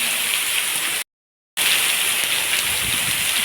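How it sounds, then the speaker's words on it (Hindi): Heavy rain pouring steadily in a dense, even hiss, briefly cutting out to silence for about half a second before resuming at the same strong level. "तो फ़िलहाल तो ये था कि 24 घंटा अलर्ट था कि बारिश है हमारे यहाँ पे।"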